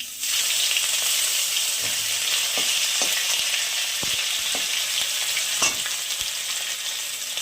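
Ginger hits hot oil in a frying pan while winter vegetables and lentils are being cooked, giving a loud, steady sizzle throughout, with a few sharp clicks of stirring or spatula contact on top.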